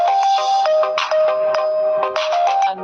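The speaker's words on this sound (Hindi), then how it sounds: "यहाँ लिखना है ANUP अनूप नाम रिंगटोन डाउनलोड सर्च करना है" A personalised mobile phone name ringtone for Anup plays loud and close as a bright electronic melody of repeated short notes and chimes, with no voice heard over it.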